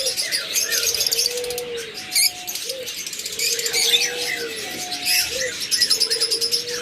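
A pair of pet lutino Fischer's lovebirds chirps and tweets in bright, rapid bursts, with short sharp calls repeating close by over a few seconds and no talking.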